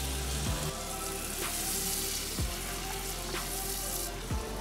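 Onions and garlic fry in butter and oil, giving a steady close sizzle with a few soft knocks at intervals as the pan is worked; no voices are heard over the cooking.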